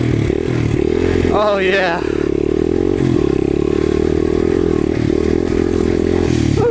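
A 100cc motorcycle engine idles and revs steadily up close, loud and continuous, with a short rising rev partway through and people talking briefly over it.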